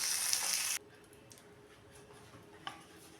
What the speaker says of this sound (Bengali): এবার বেগুনটাকে উল্টিয়ে দেব।